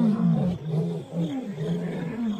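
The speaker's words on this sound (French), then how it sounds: "Les lions sont des chasseurs nocturnes et représentent une vraie menace pour les chiots." A lion roars at night in the wild, a series of deep, rumbling grunting roars that rise and fall, loud and fairly close, with no talk over them.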